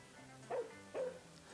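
A dog gives two short, sharp barks about half a second apart, fairly close and clear over a quiet background.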